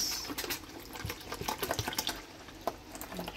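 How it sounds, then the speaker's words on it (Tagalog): Water poured into a coffee maker in a home kitchen while breakfast is being made, a steady close trickle with small clinks and knocks over a few seconds, no talking. "Lagay na tayo ng tubig."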